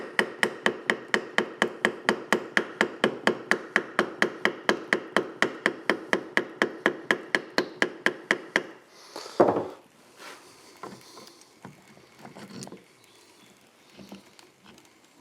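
A plastic hammer tapping on a classic Gold Star motorcycle engine part gives about thirty close, evenly spaced sharp taps in a steady rhythm, followed by a few looser knocks and handling noises.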